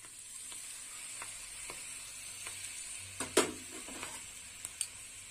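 Mustard paste stirred in a pan with poppy seed paste, potato and kakrol, a faint continuous sizzle broken by a few soft scrapes and one louder clatter of the spoon.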